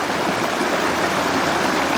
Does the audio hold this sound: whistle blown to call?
no